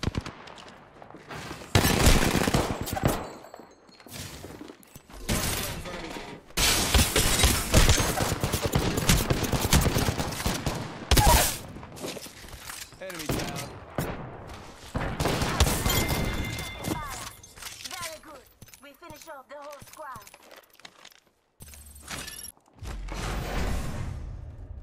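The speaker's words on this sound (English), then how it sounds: "Smells like shots fired, and they're hitting me." Video game gunfire in a battle-royale duos match: repeated bursts of automatic fire and fusillades crowd the scene, punctuated by whooshes and thuds, loud and close, with a few quieter gaps between volleys.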